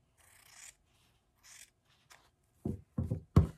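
Scissors snipping through fabric for a gnome Christmas stocking ornament: a few soft rasping cuts, then three louder, close crunching snips near the end.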